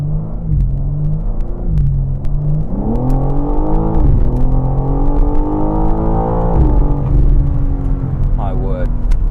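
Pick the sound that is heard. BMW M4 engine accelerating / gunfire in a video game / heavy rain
BMW M4 engine accelerating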